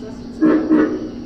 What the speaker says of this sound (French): Là c'est le bruit de grenouilles.